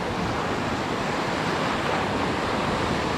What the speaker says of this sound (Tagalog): Malaki na masyado yung alon